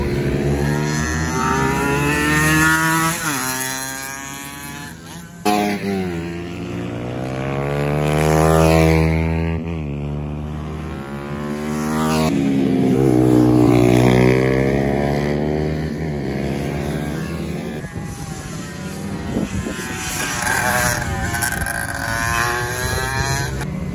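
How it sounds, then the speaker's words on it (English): A two-stroke racing motorcycle on a bucket racing track in Nelson, New Zealand, its high engine note rising and falling through repeated throttle sweeps as it passes, loud and close, with no speech. "He would have hated this bike. It's a two-stroke."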